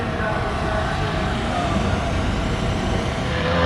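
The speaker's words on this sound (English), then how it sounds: "That's a really fast Supra as well" A Toyota Supra makes a drag racing pass at the strip, its engine a loud, continuous broadband roar that holds steady for several seconds, close and dense with no pauses.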